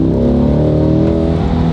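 A Chevrolet Corvette C8 engine revs with the roof closed, a loud, close, rising harmonic roar held steadily for under two seconds with no talking.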